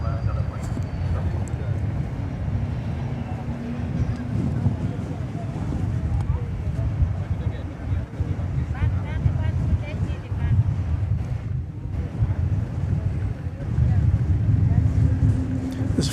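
A jet aircraft at DFW Airport produces a steady, broad roar with wind buffeting the microphone throughout, while someone talks over it at moderate volume.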